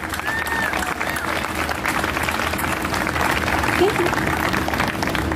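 An audience at a Salute to America opening ceremony gives sponsors a steady round of applause, dense and continuous throughout, while a voice speaks briefly over it.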